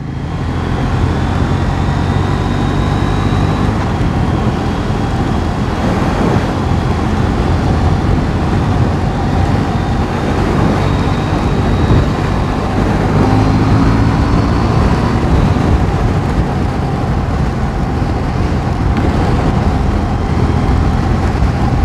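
Steady loud roar of a KTM Duke 790 motorcycle ridden at speed around 70 mph on a wet road, continuous engine and wind noise with no talk.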